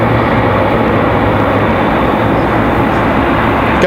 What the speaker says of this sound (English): A little departure out here. Looks like it might be a Cessna. Possibly a 172, 152.